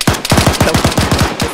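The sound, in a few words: gunfire in the video game Arma 3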